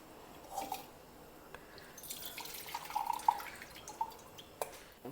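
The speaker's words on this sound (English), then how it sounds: "Now we'll just squeeze it out and extract the juice." Soaked tamarind being squeezed by hand in a bowl of water, giving soft wet squelches and drips that come in small bursts, quiet and close, with no talking.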